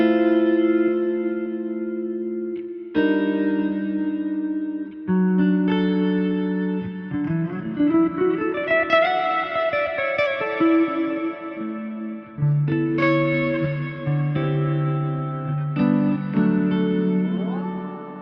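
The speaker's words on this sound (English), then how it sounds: "this is the Glitz Verb in stereo. And it's just basically a simple modulated reverb that Helix has" Guitar played through a Line 6 Helix Glitz Verb, a modulated stereo reverb, with clean sustained chords and melodic notes swelling into long shimmering washes that wobble slightly as they fade, heard alone without talk.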